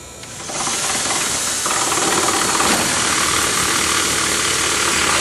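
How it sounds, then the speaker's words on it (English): A loud, steady whirring hiss of a power drill running continuously after a brief start, drilling holes in the bed of a car trunk, with no talking. "will now continue to drill the 4 placement holes in the bed of the trunk area"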